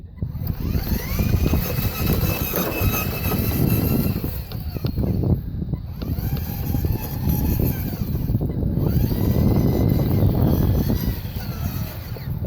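A custom 1/6 scale Jeep Rubicon RC truck built on a New Bright / ClodBuster base runs at high speed, its electric motor whining steadily in a rising and falling drone, loud and close throughout.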